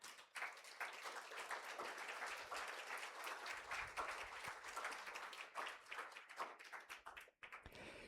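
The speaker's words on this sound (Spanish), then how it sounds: "¿Por qué no le das un aplauso al Señor?" A church congregation at a house of prayer in Cancún bursts into applause: continuous, crisp clapping from many hands, fairly close, with a brief dip near the end before it carries on.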